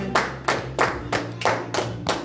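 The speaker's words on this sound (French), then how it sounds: "Donc une acclamation pour ton père spirituel" A church congregation claps in acclamation with about seven steady, evenly spaced claps, close and crisp.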